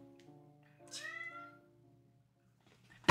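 A house cat meows once at a door, a single clear, drawn-out call rising and falling, fairly near in a quiet room, followed by a faint click at the end.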